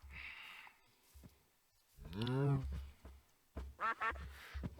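Ducks quacking in Minecraft, a few short nasal quacks in quick bursts, moderately loud amid quiet game ambience.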